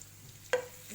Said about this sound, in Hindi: इसको हमें अच्छे से सौटे करना है।